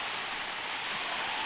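Heavy rain pouring down in a 1963 Chinese feature film, a dense, even hiss of falling water that holds steady for a brief moment with no voices over it.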